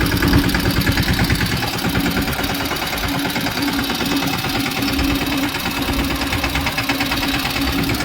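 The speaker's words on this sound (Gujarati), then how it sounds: "આપણે ટ્રેક્ટર હાંકી રહ્યા છે" A mini tractor engine chugs steadily and loudly nearby as it is driven, a continuous rapid knocking rhythm with no talking.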